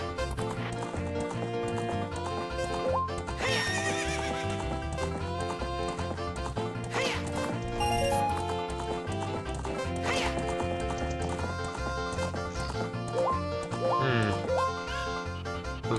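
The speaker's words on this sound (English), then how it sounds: "Ride on a pony." A horse in The Legend of Zelda: Ocarina of Time trots with steady clip-clopping hooves over lively game music, the rhythm continuing throughout with occasional brighter accents.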